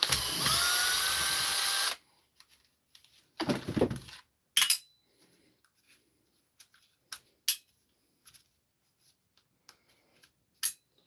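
A power drill whirs for about two seconds backing dirty screws out of a device, then stops. A second shorter burst follows, then scattered clicks and small handling knocks of tools and parts.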